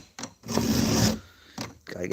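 A blade drawn across a sharpener to raise a burr: a couple of short rasping strokes around one long, loud grinding pass, close up.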